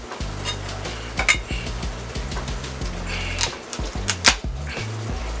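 A GrandKnife blade cuts through food on a board with repeated crunchy slicing, scraping and knocking sounds, close and fairly loud with sharp clacks at irregular intervals, and no speech.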